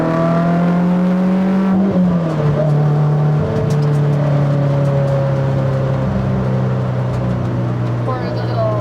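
A K-swapped Honda S2000 on the road during 0-60 runs gives a loud, close, steady engine drone whose pitch drops sharply a couple of times as gears change, filling the whole stretch.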